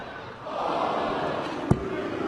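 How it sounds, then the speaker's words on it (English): A darts crowd at the 2013 PDC World Championship final, Taylor versus van Gerwen, lets out a sustained low boo that swells and holds, with a sharp thud midway. "Boos from the crowd."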